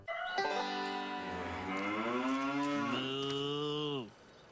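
A single long, loud cow moo in a Parkay margarine commercial, rising and then falling in pitch for about four seconds before cutting off, clear and close with no talking.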